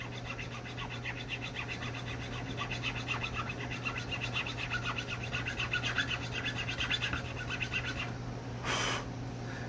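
A file cuts slots into a guitar string nut in quick, even rasping strokes, close and continuous, with a brief brighter scrape near the end and no speech.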